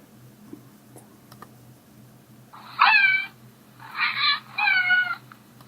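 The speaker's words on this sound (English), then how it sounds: "Cat meow." A cat meow sound effect: three short, clear meows close up, the first alone and the last two in quick succession, following a quiet start with faint clicks.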